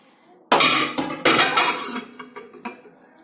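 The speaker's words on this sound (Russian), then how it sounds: "Ставим туда банку." A one-litre glass jar set down inside a microwave oven, giving a loud clattering knock of glass on the turntable followed by several lighter clinks and rattles as it settles, close by with no talking.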